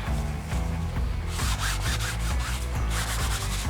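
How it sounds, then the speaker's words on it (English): Steady, close scrubbing as silicone is rubbed off a canvas, the strokes running in a quick rhythm of back-and-forth passes under faint background music. "I just try and get the silicone off of there."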